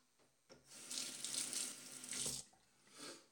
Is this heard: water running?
yes